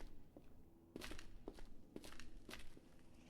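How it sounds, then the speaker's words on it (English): Footsteps in a Dead Bridge area of a game played as Kobo: a series of soft, fairly close steps thud and crunch at a walking pace over a low background hum, with no talk over them. "I hear footsteps."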